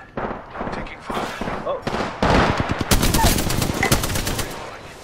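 Rapid automatic gunfire in an Apex Legends-style battle royale shooter, with loud bursts and fast repeated shots building to a dense barrage in the second half, under a player's brief callouts.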